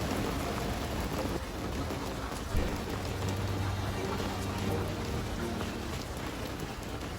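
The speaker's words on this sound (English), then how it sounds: "the skies opened hammering down hail" Dense, steady hail hammers down hard on a sailing boat, loud and constant, with one sharper knock partway through.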